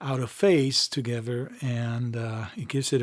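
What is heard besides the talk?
No everyday noises stand out.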